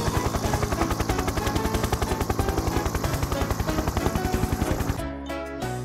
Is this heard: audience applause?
no